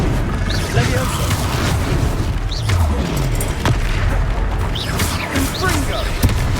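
Spell explosions and combat blasts from the Hogwarts Legacy video game, with dense booming bursts and crackling impacts running continuously under game music and character voices.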